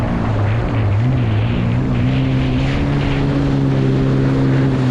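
An airboat engine and propeller running steadily at idle on a Miami swamp, a continuous loud droning hum with a low pulsing tone and wind buffeting the microphone, no voices.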